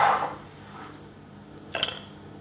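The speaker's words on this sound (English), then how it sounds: "Now you need one of these nice big bowls." A big mixing bowl handled in a home kitchen during banana loaf baking: mostly quiet, with a soft knock early on and one sharp ceramic clink near the end.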